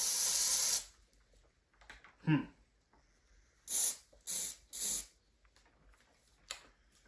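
A long hiss of Amaco Sprayz yellow glaze from a spray can opens, followed after a pause by a few short, sharp bursts of spraying, close by in a quiet room.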